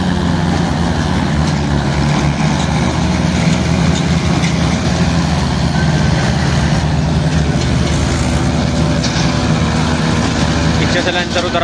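Mahindra 575 and Arjun 555 tractors pulling loaded trailers in a rural pulling contest, engines droning loudly and continuously with heavy low rumble, while people talk and shout over the noise.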